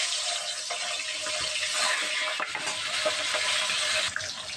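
Carp frying in hot oil in a wok, a steady broadband sizzle and crackle that holds at a constant, fairly loud level throughout, with small pops and spatters and no voices.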